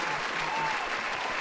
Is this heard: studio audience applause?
yes